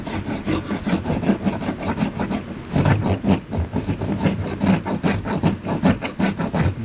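Sandpaper rubs back and forth over a hand-carved wooden wand in steady, close strokes, a continuous rasping scrape with rhythmic pulses that stays fairly loud throughout.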